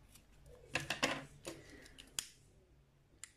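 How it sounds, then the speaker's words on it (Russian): Scissors snip through crochet cord, a few sharp close cuts clustered together with quiet pauses between them. "Также обрезаю нить."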